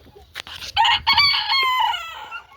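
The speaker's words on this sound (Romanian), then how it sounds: "Acolo avem cocoșul de australor" An Australorp rooster crows once nearby, a loud drawn-out call preceded by a few short clucks and rustles, with no talk over it.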